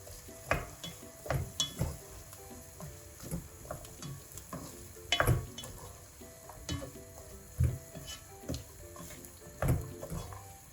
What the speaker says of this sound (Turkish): Birkaç dakika havuçlar da yumuşayıncaya kadar kavuruyorum.